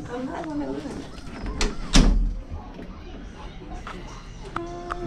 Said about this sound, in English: let me shut the door real quick